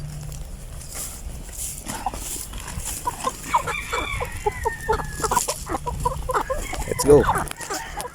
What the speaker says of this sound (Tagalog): Tapos punta tayo sa mga malalaki mga kaputak.